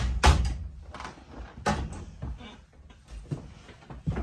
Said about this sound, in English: So we'll just go ahead and knock this out.